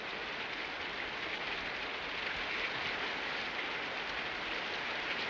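Steady rain falling in a western outdoor scene, a dense continuous hiss that holds even and unbroken throughout with no voices.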